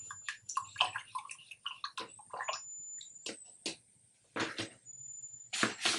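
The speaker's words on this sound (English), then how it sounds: "we're going to wash off our paintbrush" A paintbrush is swished and rinsed in a water cup close by, making short splashy sloshes and clinks in irregular bursts with brief quiet gaps, and no one speaks.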